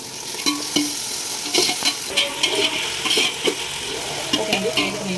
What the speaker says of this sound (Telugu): ఇప్పుడు ఇది వేగుతుంది ఆనియన్